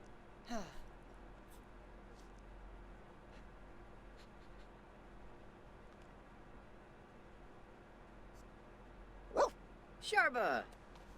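A dog in The Sims 4 gives a short bark or yip at the start, then a quick cluster of barks near the end, set over a quiet game background.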